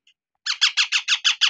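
Baby parrots squawk at hand-feeding time, seven harsh, evenly spaced calls in a quick run, close and loud, with no talk.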